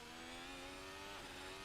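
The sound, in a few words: F1 2021 car engine revving in VR racing game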